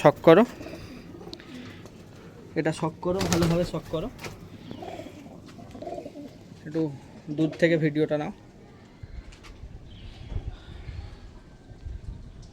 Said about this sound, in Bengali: এই হচ্ছে কালাঙ্কা পায়রা, এটা সেট করো।